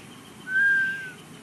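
A single sustained whistled note rises out of quiet room ambience at a poetry festival, holding steady for about half a second before fading back into the background hush.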